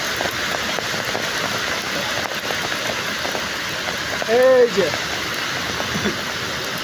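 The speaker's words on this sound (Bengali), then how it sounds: "এই দেখুন আমাদের বৃষ্টি তো সেরকম" Steady rain falling outdoors, a constant broadband hiss throughout, with a voice briefly speaking over it near the middle.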